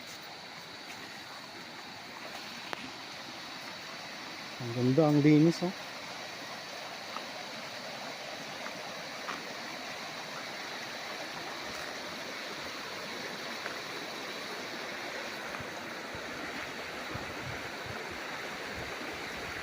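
A clean river beside a farm lot in Real, Quezon flows with a steady, soft broadband rush that holds throughout, with a brief voice speaking over it midway.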